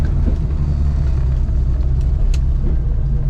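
A classic Mini Cooper with a John Cooper conversion and twin SU carburettors idles, a loud, steady low rumble heard close up and alone, with no talk.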